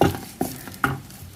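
Homemade paste soap melting in a pot, stirred in three distinct scraping strokes with a soft sizzling bubble between them, close and fairly quiet.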